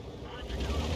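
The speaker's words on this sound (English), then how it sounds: "Yes, we've got engine noises at last." A ship's engine drones in a naval battle game, a continuous low rumbling hum with wind-like wash over it, steady and fairly loud for about a second with no talk.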